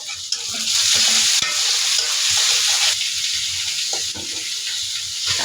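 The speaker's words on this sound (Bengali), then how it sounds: "রসুন কাঁচামরিচটা একটু ভেজে নিলাম" Garlic and green chillies frying in a pan, with a loud, continuous sizzle and occasional soft clicks of stirring throughout.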